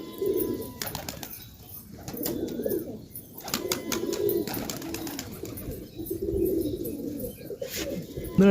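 Madrasi pigeons at a home loft coo repeatedly in low, rolling phrases, close and steady, with a few sharp clicks and a brief flutter of wings.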